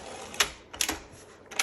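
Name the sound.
1965 Olympia SM9 typewriter setting a tab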